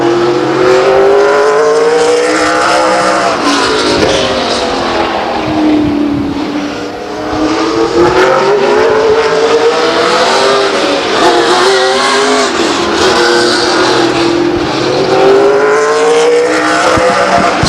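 Race car engines at Stockton 99 Speedway during an SRL race, a loud, sustained roar that rises and falls in pitch as cars lap the oval, with a brief dip midway and no talk over it.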